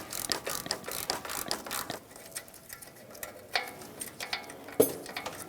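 Ratchet clicking on a 10mm socket while removing the starter solenoid nut on a 1999-2025 Ford E-350 Super Duty 5.4L V8, dense rapid pawl clicks in close bursts, pausing then resuming with a sharp knock near the end.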